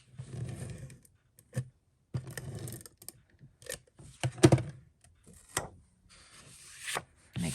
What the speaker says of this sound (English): So I'm going to put the tape on here.